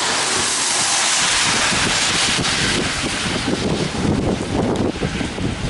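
Storm Sandy's gusting wind roars across a downtown street in Leominster, a loud, constant blustery rush buffeting the microphone, swelling and easing slightly without any talking.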